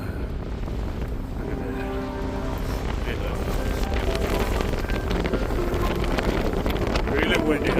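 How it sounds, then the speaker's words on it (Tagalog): Strong wind buffets the microphone at the top of Cape May Lighthouse in New Jersey, a continuous loud roaring gust that swells steadily, with a person talking underneath. "Really windy, huh?"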